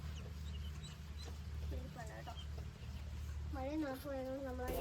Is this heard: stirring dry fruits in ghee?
no